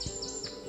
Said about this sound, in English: I see a little parrot on the tree.